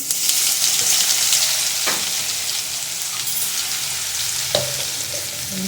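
Mustard seeds, cumin, asafoetida and garlic fry in hot oil for a jackfruit vegetable dish, giving a steady close crackling sizzle with occasional sharp pops and a spoon stirring.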